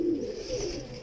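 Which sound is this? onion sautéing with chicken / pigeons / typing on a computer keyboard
pigeons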